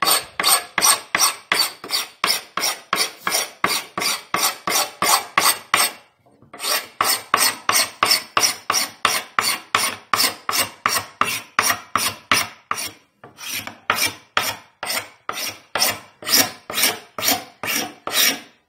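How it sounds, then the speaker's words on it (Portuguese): A flat piece of steel scraped along the weathered wood of an old chair being restored, making loud, close, rhythmic rasping strokes about two per second in long runs with two short pauses, no voices. "nesse pedaço de aço aqui, que me ajuda em muitos trabalhos. E fazer a raspagem."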